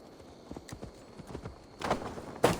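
Horse hooves clip-clop in Assassin's Creed Valhalla near a bandit camp, a handful of slow, uneven steps on the ground followed by two louder thuds, close and fairly quiet.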